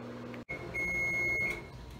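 An old microwave oven hums steadily and gives a sustained high electronic beep after a brief cutoff, the tone holding for under a second up close.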